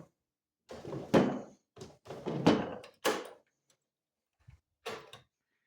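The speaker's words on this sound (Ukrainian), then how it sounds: "Відкривається дві шухляди." Several wooden thunks and short scraping slides, spaced irregularly with quiet gaps, as the two drawers of an antique wooden tea serving table are pulled open and knocked shut nearby.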